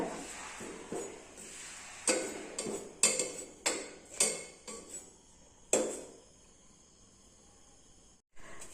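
Papadam pieces stirred in a hot pressure cooker with no oil, giving a series of sharp clicking, scraping taps at irregular intervals that fade out near the end.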